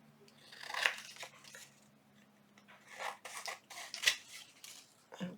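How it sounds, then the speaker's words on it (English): Scissors trimming around the edge of a paper page for a junk journal: a few close, crisp snipping and rustling passages separated by short pauses. "And then I'm going to trim around the edge, just like this."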